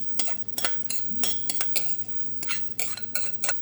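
A utensil clinks and scrapes against a bowl while mixing lime zest, lime juice, minced garlic and broccoli, with about a dozen sharp, irregular knocks close up and no talking.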